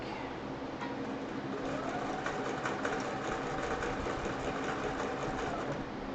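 A sewing machine stitches steadily through a chicken-patterned quilt during machine quilting, its rapid needle chatter running as one continuous, even buzz close to the microphone for the whole stretch, with no voices.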